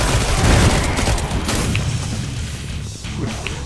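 Gunfire in Killing Floor 2 crashes out in a dense, loud barrage of booms and shots, heaviest at the start and then rolling on continuously.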